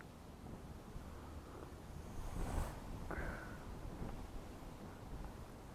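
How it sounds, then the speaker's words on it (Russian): Strong gusting wind buffets the microphone at an urban fishing spot on the water, a steady rushing roar that swells briefly midway, with no voices. "В такой ветер."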